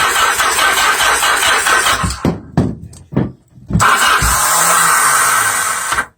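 An XS motorcycle with cold spark plugs is cranked and started, its engine firing roughly, cutting out in short bursts and sputters, then catching and running loudly for a couple of seconds before stopping, close up.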